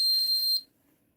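Electronic timer on a heated retainer-making machine emits a single loud, steady high-pitched beep lasting about half a second, then cuts to near silence.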